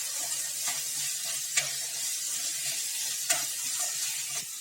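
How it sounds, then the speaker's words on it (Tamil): Chopped vegetables and green beans sautéing in a pan for veg cutlets, a steady close sizzle with occasional clinks and scrapes of a stirring spoon, and no talking. "நல்லா வதக்கிக்கலாம்."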